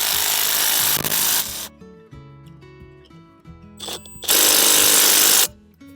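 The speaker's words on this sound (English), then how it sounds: "We can finish tightening these bolts." Bolts tightened on a mailbox post with a power drill: two loud bursts of whirring driver noise bracket quieter stretches of clicks and tool handling, all close up.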